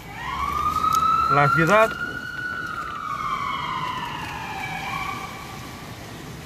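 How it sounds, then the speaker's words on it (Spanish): A wailing ambulance siren in Times Square, New York, sweeps slowly up and down, fairly loud, with a brief voice speaking over it early on before it continues alone. "Una que otra ambulancia se escucha"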